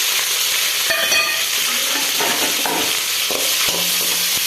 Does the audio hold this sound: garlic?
yes